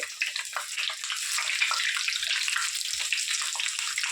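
Red chilies fry in hot oil in a home kitchen, giving a continuous crackling sizzle with bursts of popping and spitting. It is close and fairly loud, with no voices.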